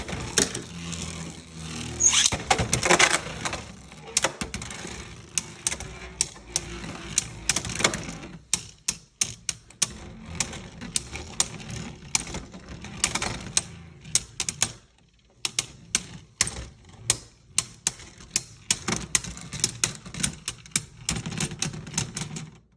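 Plastic Beyblade spinning tops are launched and clash in a stadium, producing a long run of sharp, close clacks and rattles in irregular bursts, with brief pauses between flurries.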